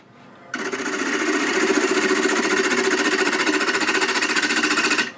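A wood lathe turns a small tenon for a bird feeder with tailstock support, giving a loud, steady, close whirring hum with a rapid pulsing buzz that cuts in abruptly and stops sharply about five seconds later.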